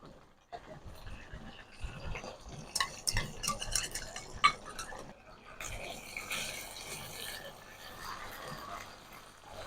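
Spoon stirring chicken curry with yogurt and green chilies in a pot, a soft scraping and clinking run of strokes, close and quiet, with a brief pause before a denser stretch.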